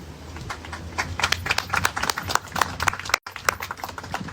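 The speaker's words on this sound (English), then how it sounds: "Can we keep clapping just for a second?" Applause from a crowd at a grand opening and ribbon cutting in Plainfield, New Jersey, a dense patter of many hands clapping steadily, with a brief gap near the end before it resumes.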